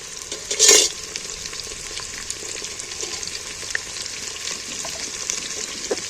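Egg and soybean fry in a pan as chopped onions are tipped in, a steady close sizzle with one loud burst at the start, then scattered light stirring scrapes over the continuing hiss.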